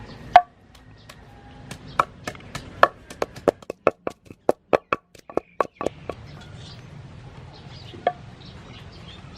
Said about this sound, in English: Pound chili